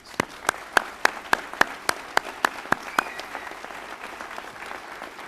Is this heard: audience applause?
yes